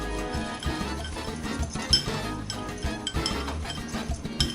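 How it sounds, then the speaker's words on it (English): A whisk or spoon clinks briskly against a bowl while mixing taco seasoning, a rapid run of bright metallic taps close up. "whisk her around"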